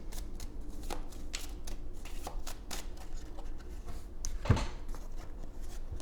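Tarot cards being shuffled by hand, a close run of quick papery riffles and flicks lasting several seconds with one sharper tap near the end, no voices.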